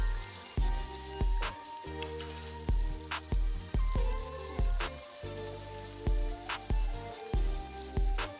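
Ivy gourds (tindora) sizzling and crackling as they fry in a pan with oil, a steady close hiss with bursts of popping, under background music.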